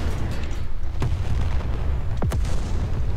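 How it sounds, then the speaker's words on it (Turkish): A tank's ammunition detonating in the War Thunder video game, heard as a couple of sharp booming blasts over a constant low rumble of game noise. "Bir de mühimmatını patlatmayı deneyelim."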